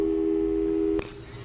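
Telephone busy signal from the video game Portal 2, a steady loud electronic tone held for about a second and then cut off abruptly, leaving quiet background.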